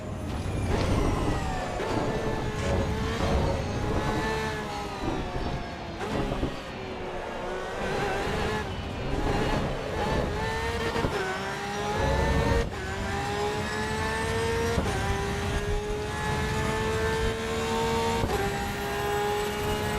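A race car engine screams through gears at the Nürburgring in Assetto Corsa EVO, loud, rising revs repeatedly cut by shifts and downshifts, sustained and close throughout without speech.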